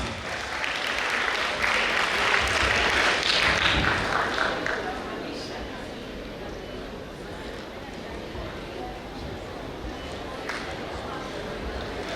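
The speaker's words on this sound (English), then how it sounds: "So audience, give a huge round of applause" A college audience at a grand anniversary celebration breaks into dense applause, loudest at first, then settling into steadier clapping for the rest of the clip.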